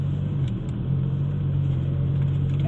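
An Audi R8 V10 with 525 hp pulls away gently from a standstill at the Issoire circuit, its engine a steady, close, deep rumble that holds an even level throughout, with no voices over it.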